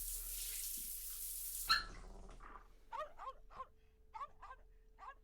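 A dog in the visual novel Labyrinth of Grisaia barks and growls in a rapid string of sharp, close barks. They follow a rush of running shower water that cuts off abruptly.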